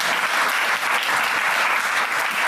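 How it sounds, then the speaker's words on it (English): Audience applause at a live Edinburgh Festival stage show: dense, steady clapping from a full crowd fills the whole stretch, loud and close, with no break. "Give them a huge round of applause."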